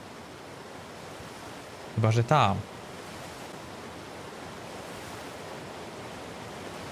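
Steady broadband rush of a river waterfall in ARK: Survival Evolved, continuous and even throughout, with someone briefly talking over it near the start.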